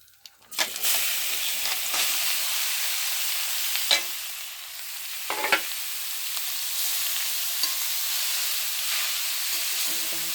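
Grated carrots fry in hot ghee for Mithila-style carrot halwa, a steady close sizzle with occasional clacks and scrapes of stirring and no talking.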